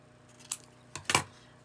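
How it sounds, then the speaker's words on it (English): Scissors snipping a scrap of card in half, a few quick close metallic cuts, one short snip followed by a double snip, in an otherwise quiet room. "I'm going to cut this in half"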